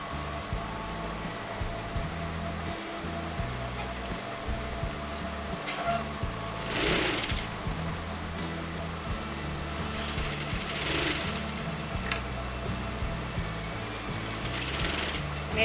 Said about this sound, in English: so be careful while sewing a U.